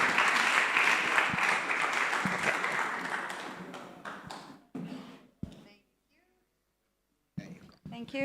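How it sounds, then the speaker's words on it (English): An audience at a community dialogue event applauds steadily for several seconds, then the clapping fades into scattered claps and a pause before a speaker begins talking. "A round of applause,"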